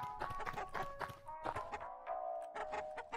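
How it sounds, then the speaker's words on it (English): Chickens cluck in the video game Lisa, a busy run of short, close clucks and squawks repeating through the whole stretch with some tonal game music or ambience underneath. "Oh, sweet chickens."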